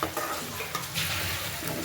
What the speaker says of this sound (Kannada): ನನಗೆ ಒಗ್ಗರಣೆ ಕೂಡ ಹಾಕ್ಕೊಂಡಿದ್ದಾಳೆ.